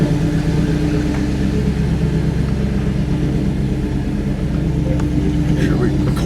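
An old GMC Jimmy idles fast on a street, a steady low engine rumble with a continuous drone heard from inside the vehicle while someone talks over it.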